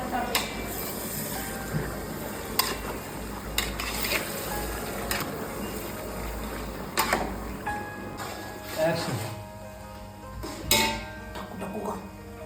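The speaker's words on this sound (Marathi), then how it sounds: "मस्तपैकी परतून घ्यायचं आहे." Aagri-style mutton masala sautéing in a pan with hing, a continuous sizzle broken by repeated metal spoon scrapes and clinks against the pan, with a person speaking intermittently.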